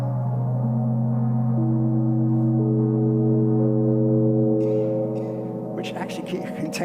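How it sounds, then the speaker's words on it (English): Sonified spherical harmonics of the Earth: steady layered sustained tones that stack into a chord, with new pitches entering one after another and a brief noisy burst near the end. "it has these what's called spherical harmonics, which sound like this."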